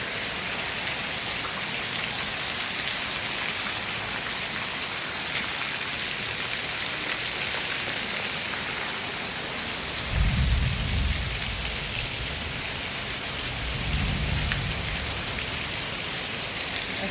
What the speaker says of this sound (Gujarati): તો વરસાદ મન મૂકીને વરસો તમે જુઓ.